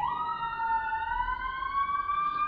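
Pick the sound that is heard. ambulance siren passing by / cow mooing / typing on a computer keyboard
ambulance siren passing by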